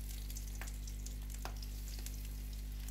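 Soybean oil heats in a frying pan, giving a steady, soft sizzle with scattered small pops and crackles over a constant low hum, close and fairly quiet.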